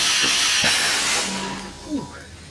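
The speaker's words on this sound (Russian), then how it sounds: "Пол настраивает куропушку на обычную взлетную скорость А380" A chicken cannon fires a bird at a slab of A380 aluminium at takeoff speed, giving a loud hissing blast of compressed air that fades, with a brief thud and faint voices near the end.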